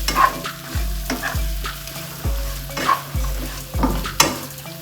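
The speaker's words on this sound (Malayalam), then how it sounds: "നല്ല ഇളക്കി കൊടുക്കാം" A spoon scrapes and stirs chicken masala with pepper powder in a frying pan, sizzling oil under repeated rhythmic strokes, each scrape a sharp low thump followed by hiss, close and clear with no voices.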